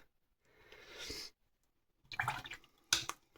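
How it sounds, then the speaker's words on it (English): A watercolour paintbrush swished in a water jar, two short bursts of gentle sloshing and dripping separated by quiet pauses, close and soft. "Rinse my brush, dab it off."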